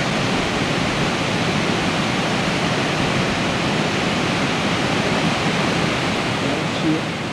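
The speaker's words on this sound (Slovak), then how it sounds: "perfektný veľký vodopád" A large waterfall in the Dolomites roars steadily and loudly, a dense continuous rush of falling water filling the whole span with no break.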